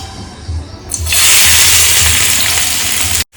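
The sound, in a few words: onions, green chili and garlic frying in oil in a pan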